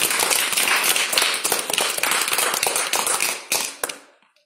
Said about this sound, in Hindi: बहुत जोरदार ताली बजा दीजिए आप लोग।